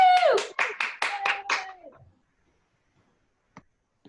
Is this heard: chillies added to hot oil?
no